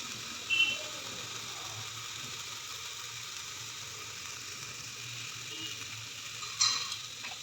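Masala sizzles steadily in a pan for mutton nalli soup, a low constant hiss with two brief louder spoon scrapes near the start and end, and no one speaking.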